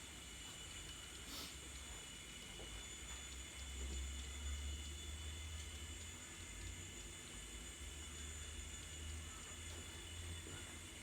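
An N scale model coal train with a caboose runs along its track on a small layout. It makes a faint, continuous low rumble with light clicking, and there is no talking.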